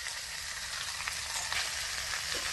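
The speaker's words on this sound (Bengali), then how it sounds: "নাড়াচাড়া করে পটল আলুটা এর সাথে একটুখানি ভেজে নেব।" Pointed gourd and potato fry with Gobindobhog rice in a pan, giving a steady close sizzle with faint stirring scrapes throughout and no talking.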